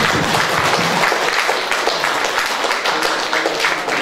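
A hall audience at a New Year evening gathering claps for the elders, a dense, even wash of applause held steady for a few seconds with no voices over it.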